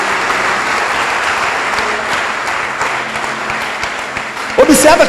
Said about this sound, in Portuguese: Pode aplaudir forte se você crê nisso.